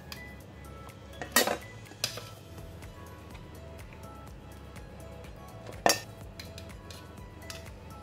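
Beef bones lifted out of a boiling stock pot give a few sharp clanks of metal against the pot, with quiet bubbling and clinks in between.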